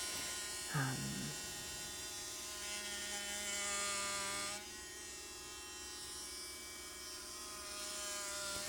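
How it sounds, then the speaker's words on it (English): A Dremel saw cutting into a dahlia tuber clump, a steady high motor whine running throughout with a shift in pitch partway, close and fairly loud, with faint talking underneath. "And then I'm using a Dremel tool, a Dremel saw to cut."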